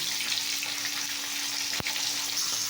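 Oil hits a hot pan and sizzles steadily, a dense, close hiss running through the whole stretch with one brief clink partway; no one speaks.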